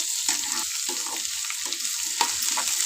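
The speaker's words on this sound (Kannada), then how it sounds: "ಇದನ್ನು ಚೆನ್ನಾಗಿ ಫ್ರೈ ಆಗಲಿ ಇವಾಗ ನೋಡಿ ಚೆನ್ನಾಗಿ ಫ್ರೈ ಆಗಿದೆ" Potato masala frying in a pan for Mysore masala dosa filling, a steady close sizzle with intermittent stirring scrapes and no voices.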